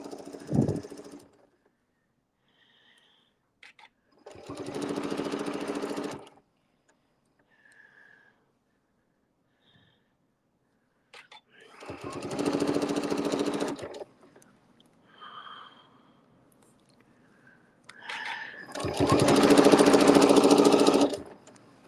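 Sewing machine running in short bursts while stitching a fabric appliqué disc, three separate runs of a few seconds each with quiet pauses between, close and moderately loud.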